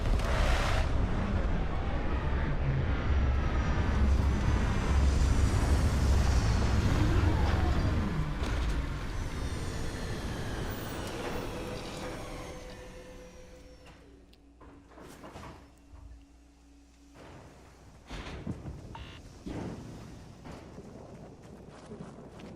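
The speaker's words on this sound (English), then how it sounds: "Landing struts primed. Retros firing." Starfield spaceship touching down with retro thrusters firing: a loud, dense rumbling roar with hissing bursts that fades after midway into quieter mechanical thuds, clanks and settling hisses.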